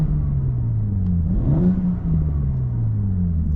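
A 2024 BMW M4 Competition xDrive G82 rumbles at low revs while driving with exhaust burbles on, a deep steady drone with a brief rising rev swell in the middle.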